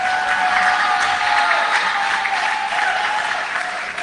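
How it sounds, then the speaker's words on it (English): An audience at an evening public political meeting applauds, a sustained, even wash of many hands clapping together, loud and continuous, with some crowd noise mixed in. "Give yourselves a round of applause."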